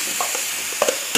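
Chicken pieces go into a hot pan for sautéing, giving a steady sizzle with a few sharp clatters and stirring knocks close by.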